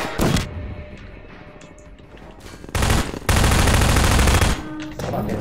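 Gunfire in Half-Life 2: a few scattered shots come first, then a loud, sustained burst of rapid fire, followed by a couple more shots.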